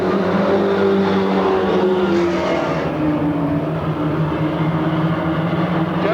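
Stock cars in a 15-lap exhibition race at Lakeport, California roar loudly around the oval, with a continuous dense engine drone and shifting pitches as the pack sweeps through the turns.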